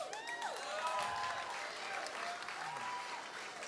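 Concert audience at a show at The Steamboat applauding, steady crowd clapping mixed with whistles and cheers that ring out over the room.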